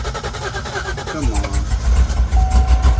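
A car engine fitted with American Racing headers cranks and catches, then settles into a loud, deep idle close by, with a voice speaking briefly over it.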